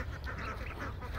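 A crowd of Khaki Campbell ducks quacks steadily in a dense, overlapping chorus, close by and moderately loud, for about a second.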